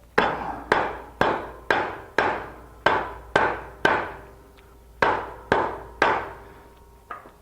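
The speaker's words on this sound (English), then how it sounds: "take yourself a block of wood and a mallet" A mallet tapping a block of wood to seat a lathe spur center in a furniture-turning workshop, with about eleven sharp, evenly paced knocks, each ringing briefly before the next, close and alone.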